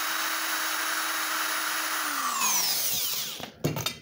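A slow-speed drill with a very thin bit boring holes in a stainless steel burner for a rusted gas grill: a steady high whine that winds down in pitch after two seconds, followed by a few clattering knocks.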